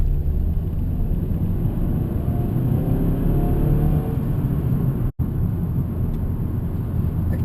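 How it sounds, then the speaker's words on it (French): A 2014 Mazda3 engine drones low and steady while accelerating, a continuous in-cabin rumble with a momentary dropout partway through before the drone resumes. "Au niveau des accélérations, le moteur a une sonorisation qui est quand même très intéressante."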